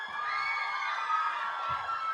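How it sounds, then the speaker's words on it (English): A large audience cheers, whoops and applauds for the cast of The Maze Runner: The Scorch Trials at a film event. The crowd roar is dense and steady and fills the whole stretch without a break. "Keep the applause going"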